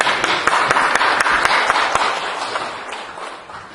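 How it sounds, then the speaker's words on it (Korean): An audience in a church service gives a brief burst of applause, dense loud clapping from many hands that starts strongly and slowly fades away. "박수 한번 쳐주세요."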